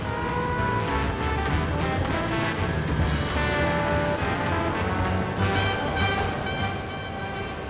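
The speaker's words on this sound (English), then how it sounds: "Heavy rain is about to approach." Dense, steady rush of heavy rain pouring down, continuous and enveloping with no voices.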